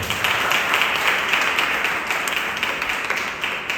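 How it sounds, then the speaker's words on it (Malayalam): Applause from a church youth and kids fellowship audience, a steady wash of many hands clapping together for a few seconds with no voices over it. "നല്ലൊരു കൈയടി കൊടുക്കാം"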